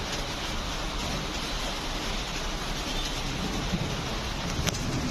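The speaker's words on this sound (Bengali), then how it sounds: "কিন্তু ভালোই জোরে হচ্ছে বৃষ্টিটা।" Heavy rain pours steadily outside a balcony, a dense, even hiss with no voices and only faint distant rumble underneath.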